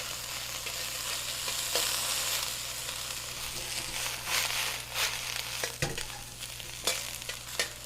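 Broccoli sizzles in a hot pan with a constant, fairly quiet frying hiss, broken now and then by stirring scrapes and light taps, with no voices.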